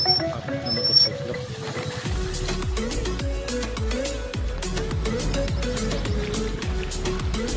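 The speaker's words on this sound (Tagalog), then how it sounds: "our way of transportation across the river is balsa." A balsa raft made of lawayan, pulled along a rope on a pulley across a river, with water sloshing and splashing around it and repeated rhythmic knocking and creaking under a steady wash of sound.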